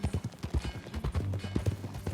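Horse hooves clip-clop at a steady walking pace in Red Dead Redemption 2, with rhythmic muffled thuds close by and a faint tonal hum underneath.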